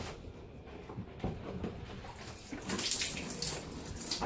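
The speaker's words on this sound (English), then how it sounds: "Look, see it's all yellow liquid there. It's going to pour out now." Yellow liquid pours out of the cut bottom of an object, a soft watery trickle that swells into a fuller splashing flow partway through.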